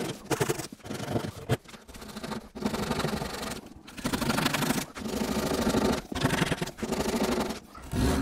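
A hand saw cuts wood during restoration of an 1890 entrance door, with rhythmic rasping strokes in steady bursts separated by short pauses, close and moderately loud.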